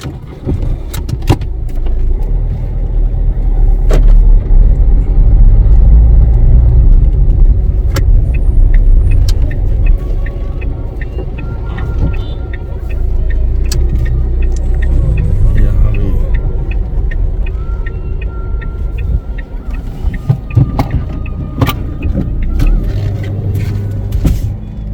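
A car drives along a road in Mayong, Assam, its engine rumble and road noise steady and loud throughout, with occasional knocks and rattles from inside the vehicle.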